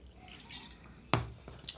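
Water is poured into a glass of Irish whiskey blend, a single short splash followed by a few faint drips and light glass sounds, close and quiet with no voices.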